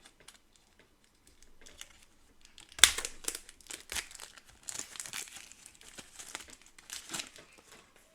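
Wrapped packs of cards for the D.E.I. core box game being torn open, with crinkling plastic wrap and tearing bursts that start abruptly and continue in a busy, close-up rustle, no talk.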